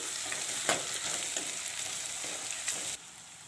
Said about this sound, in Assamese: এইখিনি পানী এৰালৈকে আমি ভাজি ল'ম